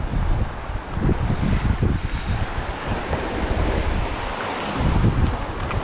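Sea waves wash against rocks at high tide on the coast of Siruma in Bicol, Philippines, a continuous surging roar with heavy wind buffeting the microphone and no voices.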